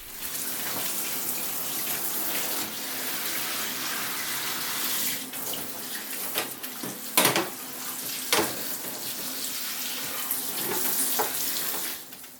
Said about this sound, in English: The next day I rinse the wool to remove any excess dye.